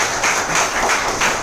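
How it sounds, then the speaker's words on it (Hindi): An audience at a business training event applauds in a steady, dense burst of many hands clapping, close and loud, with no talk over it. "शैलेश भाई के लिए भी जोरदार तालियां"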